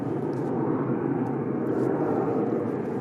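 An airliner on the runway at Manchester Airport produces a steady, fairly loud engine roar that holds constant throughout, with no talking over it.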